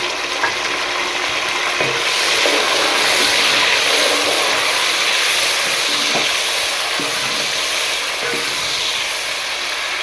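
Chopped tomatoes hit light brown onions frying in a pan, giving a loud, steady sizzle with a few clinks and scrapes of stirring, and no talking.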